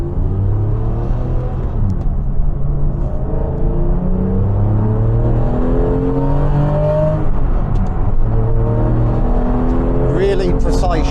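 A Porsche GT3 Manthey Racing with a solid flywheel drives along, its engine droning loud and steady from inside the cabin, rising in pitch through repeated climbs and gear changes, with occasional speech.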